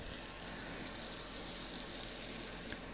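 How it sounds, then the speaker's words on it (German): Bacon sizzles and crackles in a frying pan while carbonara is being made, a steady, close, unbroken frying hiss with no voices. "jetzt muss ich hier mal mich um den Speck kümmern, nicht, dass der uns noch anbrennt"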